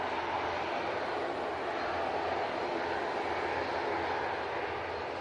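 An easyJet airliner bound for Lisbon rolls for takeoff at Manchester Airport, its broad, steady engine roar holding constant and loud from start to finish with no break.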